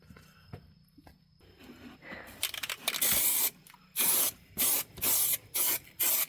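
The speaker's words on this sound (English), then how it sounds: "Josh Gonzalez told us to use truck bed spray to fix our mess that we have up here" Truck bed liner spray hisses from a can onto wood under an RV slide, starting with faint handling noises, then a long burst followed by several short, loud, evenly spaced sprays.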